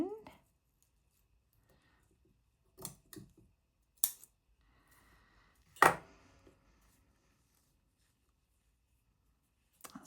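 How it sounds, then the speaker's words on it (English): Scissors snipping lace trim, a few short, sharp crunchy cuts separated by quiet gaps, close and clear in a still room. "Let's cut that little bit off the end."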